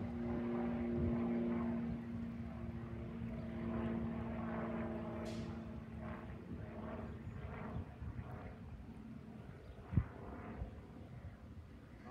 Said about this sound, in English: There's an airplane up there.